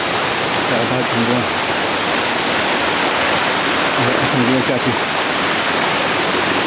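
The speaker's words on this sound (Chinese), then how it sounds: "开始潺潺流水，现在过溪" A babbling mountain stream being crossed on an old hill trail, its steady rushing wash of water close by and continuous, with someone talking over it throughout.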